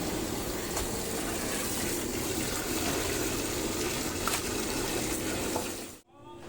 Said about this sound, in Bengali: পটলগুলো সব ধোয়া চলছে এদিকে মটনটা ঢুকে গেছে আমি মটনটা ধুয়ে নিচ্ছি